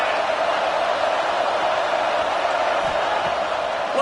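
Steady stadium crowd roar at a football game, a dense wash of many voices held loud and constant throughout with no single call standing out.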